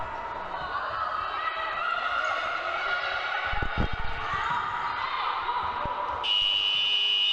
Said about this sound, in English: that's the buzzer for half time